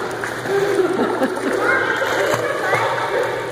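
A child swims with a snorkel in a pool at a birthday gathering, churning up continuous close splashing and sloshing water, with people talking over it.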